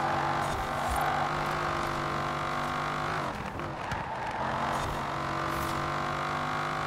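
Dodge Viper engine in Forza Horizon 4 roaring steadily under throttle with strong harmonic drone, briefly dipping as the driver lifts off mid-clip, then building again, loud and close with no talk.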